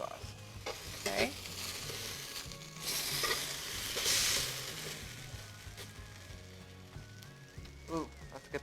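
Seitan wings frying in a pan while being flipped and brushed with barbecue sauce: a continuous sizzle with scraping utensil strokes and a few louder hisses, a voice faintly present in the background.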